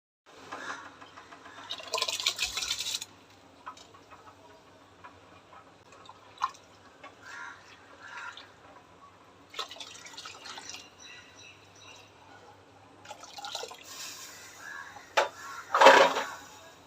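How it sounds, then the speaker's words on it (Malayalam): Rice is washed in water in a home kitchen: nearby bursts of sloshing and splashing alternate with drips and small clinks of the pot, separated by quieter pauses. "അരി കഴുകി അടപ്പത്തിടട്ടെ."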